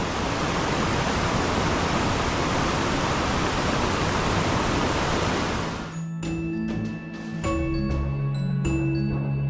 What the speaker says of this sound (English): The falls comes down here quite nicely.